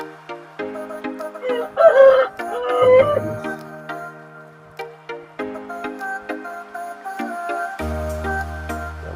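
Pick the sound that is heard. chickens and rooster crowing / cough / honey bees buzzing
chickens and rooster crowing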